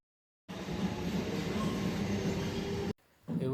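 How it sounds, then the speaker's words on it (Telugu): Inside a moving MMTS suburban train near Erragadda, a steady low rumble of wheels and carriage noise runs for several seconds, then cuts off briefly before resuming. "మెట్రో బస్సు అన్నీ టైం పడతాయని చెప్పి ఎంఎంటీఎస్ అయితే ఎక్కి స్టార్ట్ అయినాం"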